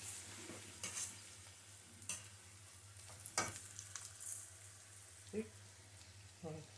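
Potatoes frying in a pan, a faint steady sizzle with a low background hum, broken by occasional scrapes and stirring knocks.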